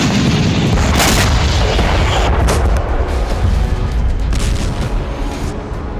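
Missile strike on a train loaded with 200 tons of ammunition in Kramatorsk, Ukraine, setting off a loud continuous roar of blasts and rumbling booms with sharper bursts layered over it, alone without voices.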